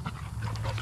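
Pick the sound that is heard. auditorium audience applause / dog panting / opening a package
dog panting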